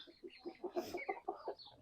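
Hens and chicks in a village poultry yard that also keeps ducks, clucking in a steady run of short, fairly close calls with no talking.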